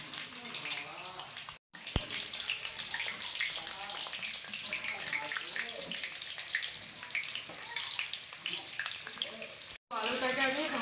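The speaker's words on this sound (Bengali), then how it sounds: "এই তেলে আমি আলুটা ভেজে নেব" Potatoes fry in hot oil left over from browning onions for chicken biryani, giving a steady, close, broadband sizzle and crackle that runs continuously, with a voice speaking over it at times.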